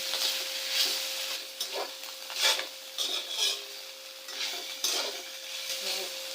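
Chicken breast browning in a pan for the Maguindanao dish kagikit makes a low sizzle broken by repeated spatula scrapes and stirring clatter against the pan.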